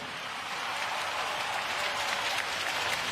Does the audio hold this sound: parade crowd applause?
yes